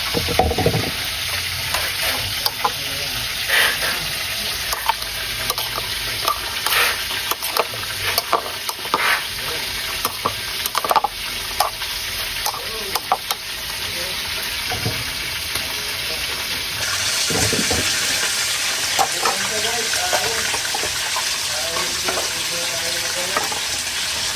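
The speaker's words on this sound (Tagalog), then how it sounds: "tapos na ng ating prito" Food sizzles and crackles steadily in hot oil, a continuous spattering hiss with occasional louder pops, close by and running without pause.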